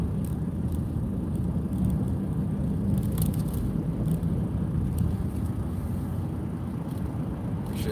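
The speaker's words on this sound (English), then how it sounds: "We should see how fast this car can really go." A Honda car driving along with no speedometer, its steady low engine and road rumble constant and close throughout, no voices present.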